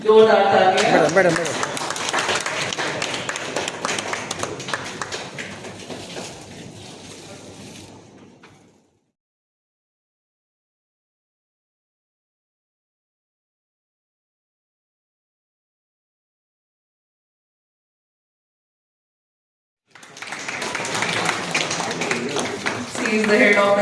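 Applause at a hospital seminar held in a private hotel, dense clapping from the room that fades out, then a long stretch of silence before another round of clapping starts up near the end.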